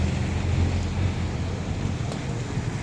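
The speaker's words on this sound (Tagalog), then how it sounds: "na lakas pa naman ang ulan ngayon dito sa atin" Heavy rain pouring outdoors, a dense continuous wash of noise with a rumbling low end, steady and fairly loud throughout, no voices.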